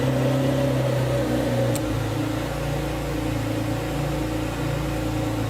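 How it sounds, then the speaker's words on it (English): A 2010 Chevy Camaro engine started by remote starter runs at a loud, steady idle, a continuous low rumble with no break and no voices. "The system will get the command, and in a few seconds the car will start."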